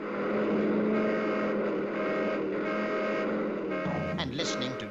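Continuous roar of traffic with engines rumbling and vehicles rushing past, loud and steady, with a brief burst of higher clatter near the end.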